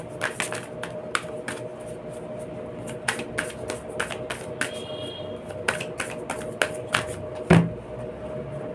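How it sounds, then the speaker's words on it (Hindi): A deck of numerology cards being shuffled close up, with crisp, irregular riffles and taps repeating through the whole stretch and no talking. "एक न्यूमरोलॉजी से कार्ड लेते हैं"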